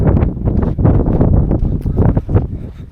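Gusty wind on the Tottori Sand Dune in Japan, loud close buffeting bursts rushing past the microphone in uneven pulses.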